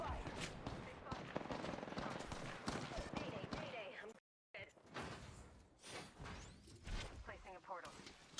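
Bursts of gunfire crack through a firefight in the Apex Legends video game, rapid automatic shots and impacts mixed with game effects and voices, broken by a brief silent gap midway.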